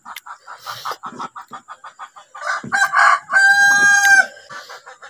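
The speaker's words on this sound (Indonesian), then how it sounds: "Kan ayam enggak?" A rooster crows nearby, a loud drawn-out call following a run of rhythmic clucks from the chicken, all close and clear with no speech.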